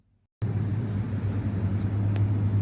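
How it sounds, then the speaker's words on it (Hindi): A car engine rumbles in close and steady after a brief silence, a low idling drone with faint road noise as the vehicle pulls up. "गाड़ी आ गया।"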